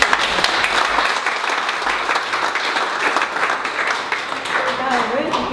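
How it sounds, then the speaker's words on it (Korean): A crowd applauds at the opening of a wood-block print exhibition at Palais de Seoul, the dense clapping steady and close for the whole stretch, with voices murmuring underneath and some speech near the end. "제가 소개를 드리면 큰 박수로 맞이해주세요"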